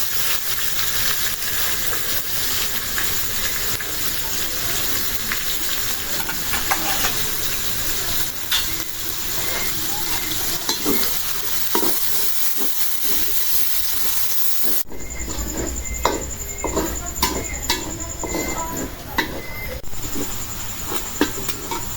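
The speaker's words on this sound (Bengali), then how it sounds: "পেঁয়াজটা ভাজা হয়ে গেছে" Chopped onions frying in oil with cardamom, cinnamon and bay leaf, a continuous hissing sizzle with stirring scrapes, shifting to a different texture partway through.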